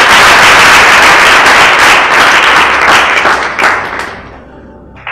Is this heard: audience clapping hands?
yes